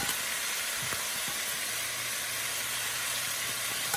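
Pork and vegetables sizzle in a hot stir-fry pan, a steady, loud broadband hiss with faint crackles and no talking.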